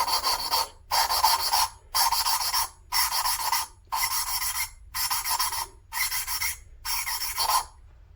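A VW cylinder head valve is lapped by hand with a suction cup tool, eight rhythmic bursts of gritty, rasping grinding, each about half a second long, separated by brief pauses and recorded up close.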